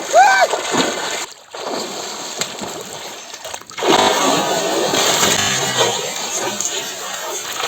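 Loud, continuous water splashing as people bathe in the Godavari river, with bursts of churning water, shouting voices and crowd noise throughout.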